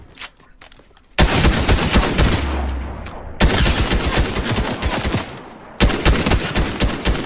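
Rapid automatic gunfire from a new gun in Fortnite, loud dense bursts that start abruptly, pause briefly, and resume twice, with a low thump partway through and little talk.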